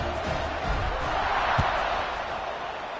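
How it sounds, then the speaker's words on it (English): Stadium crowd at a college football game between USF and Wisconsin, buzzing after a score as the kickoff approaches; a steady, dense roar of many voices, fairly loud, with one brief low thump partway through. "this crowd is buzzing after that last score"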